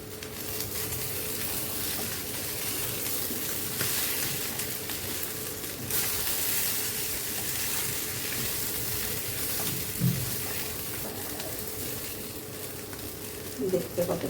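Potatoes frying in a pan for a Bengali chal potol dish, giving a continuous close sizzle with occasional soft stirring scrapes and a few small knocks near the end.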